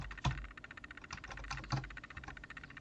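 Fingers type Java code on a computer keyboard, producing a quick, close run of clicking keystrokes with a few heavier taps, steady and uninterrupted by speech.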